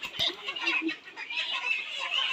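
Layer hens on a poultry farm cluck and murmur in a steady, overlapping chorus of short calls, fairly close and continuous throughout with no talking.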